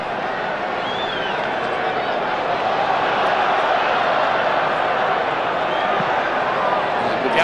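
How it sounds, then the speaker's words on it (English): Crowd in a football stadium at a 1991 Richmond versus North Melbourne match, a steady loud roar with a stirring disturbance, heard under continuous commentary. "Disturbance in the crowd."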